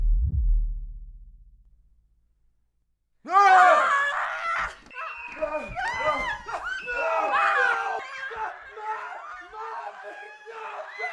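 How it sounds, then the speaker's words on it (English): Several voices scream and wail together in overlapping, chaotic cries, loud and close, lasting many seconds after a brief low thud and a moment of silence. "Who's that screaming?"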